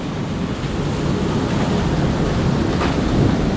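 Summer hailstorm with hailstones falling hard, a continuous loud rushing roar of impacts, close and even, without talk.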